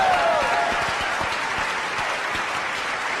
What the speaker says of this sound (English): Can we get another round of applause for our great panelists for today?